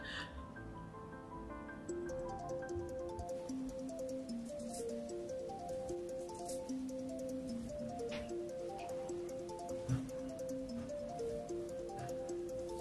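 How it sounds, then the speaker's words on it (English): A phone rings with a melodic ringtone, its repeated notes cycling steadily and fairly quietly for over ten seconds. "It's ringing. Aren't you going to get it?"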